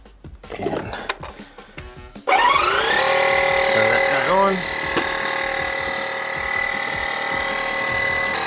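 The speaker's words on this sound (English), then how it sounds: "that's filling up the tires with ballast" A pump fills tractor tires with washer fluid ballast, starting after some clatter with a loud steady motor drone and whine that holds on to the end.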